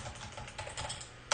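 Computer keyboard keys clatter in quick, uneven bursts of close typing, ending with a sharper keystroke.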